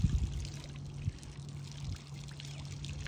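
Water pours and trickles from a dredge sample collected at Jasper Ridge, a steady close splashing with a few louder sloshes and no talk over it.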